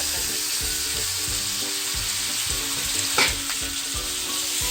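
Tomato stirred into sautéed onions for a mushroom paratha filling, a loud steady sizzle with rhythmic spatula scrapes roughly every half second and one brief louder clatter, close by, no talking.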